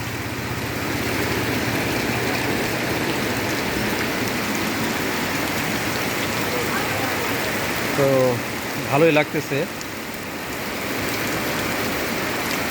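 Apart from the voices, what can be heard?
rain falling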